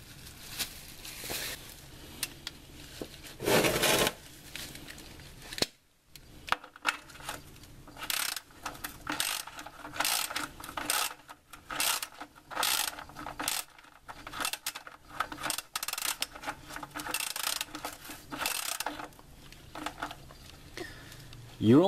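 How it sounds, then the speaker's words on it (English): A socket ratchet turns an oil filter on a 1996-2000 Honda Civic, clicking in short repeated bursts with metallic clinks, heard close and faint, with a person talking over some of it. "My hand can't turn it anymore, so I'm gonna use the socket and the ratchet."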